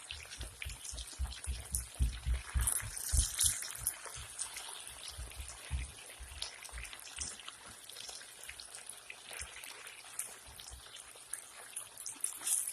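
Potatoes with onion stirred in a covered pan, a busy run of soft scraping, pattering and crackling that keeps going throughout at moderate level with no talk.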